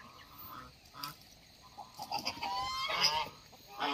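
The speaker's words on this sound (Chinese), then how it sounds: "母鸡呀" Farm hen making loud squawking, honking clucks in short bursts that grow busier toward the end, heard alone at fairly close range.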